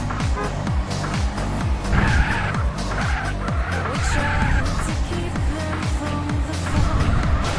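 A car in GTA San Andreas roars with engine and tire squeal as it races and skids, repeated revving sweeps rising and falling under faint game sounds.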